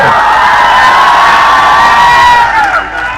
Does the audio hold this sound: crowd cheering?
yes